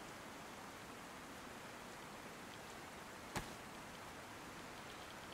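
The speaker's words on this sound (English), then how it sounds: "It is fucking raining hard though." Heavy rain in the DayZ game comes through as a faint, steady hiss that holds evenly the whole time, broken once by a single sharp click partway through.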